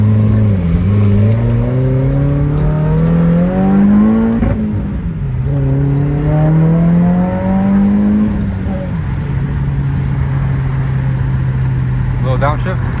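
A Subaru WRX with a catless J-pipe exhaust pulls away loudly and close, its engine note climbing steadily, dipping at two gear shifts, then settling into a droning cruise.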